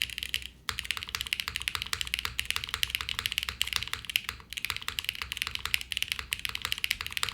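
Rapid, steady typing on a Jris 80 TKL mechanical keyboard, a $165 tenkeyless board, with dense clacky keystrokes close up and only a couple of brief pauses.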